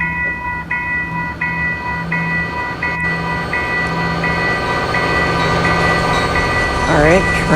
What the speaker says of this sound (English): train goes by.